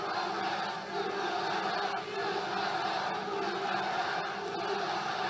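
A large crowd cheering and roaring at a Trump rally in Greenville, North Carolina, a dense, continuous wall of voices that holds steady, heard from within the arena.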